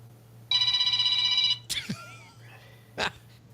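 A phone bell rings once in a steady electronic trill for about a second, followed by a few brief clattering and chirping sounds and a short burst of noise.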